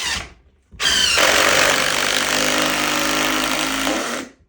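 Power tool, likely an impact driver, sinking large lag screws into a wooden picnic table outdoors: a loud, close, continuous buzzing grind lasting about three seconds with a rising whine, after a brief click and pause.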